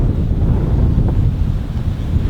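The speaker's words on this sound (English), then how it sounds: "this wind is so strong coming up here." Strong wind roars steadily into the microphone, a loud, continuous low rumble buffeting throughout with no voices.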